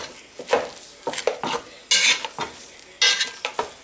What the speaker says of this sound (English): So just mash your potatoes with your potato masher